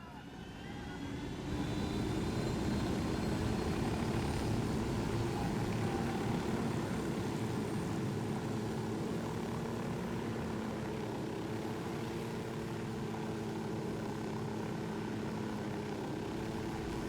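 A propeller aircraft engine in Ghost Recon Wildlands, a steady droning hum that rises in the first seconds and then holds constant and even for the rest, with no talk over it.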